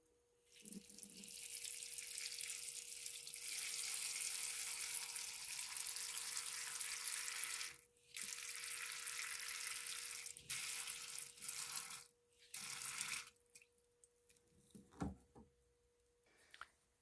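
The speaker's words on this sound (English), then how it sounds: "Fill this up with water, get our lids on," Tap water runs steadily into rock tumbler barrels for about thirteen seconds, broken by short pauses as the flow is shut off, then quieter clinks and handling sounds as the fill stops.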